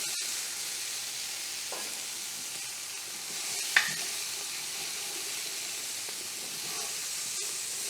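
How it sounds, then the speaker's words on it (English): Four chopped carrots fry in a pan with an even, moderate sizzling hiss, broken by an occasional faint click and one brief sharp tap, with no talk. "I'm going to add 4 carrots, chopped, and let them get a little bit of color"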